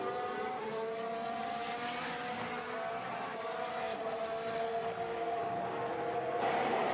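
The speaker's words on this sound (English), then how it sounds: "as Leclerc pits then for Ferrari" A Ferrari Formula One race car at the Nürburgring gives a steady, high-pitched engine whine with a rising tone through a broadcast, loud and continuous, with no talk heard over it.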